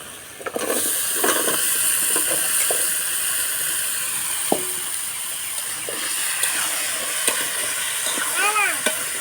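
Pumpkin poured into a hot pan of spice paste made with green chilies, giving a steady broadband sizzle with faint scraping and a few clinks, plus a brief whistle-like tone near the end.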